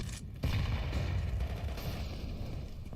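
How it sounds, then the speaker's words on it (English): A grenade blast in Counter-Strike 2 tournament play: a sharp boom lands early, then a low rumbling tail fades slowly under continuing game ambience. "Nade right into Boiler does extensive early damage"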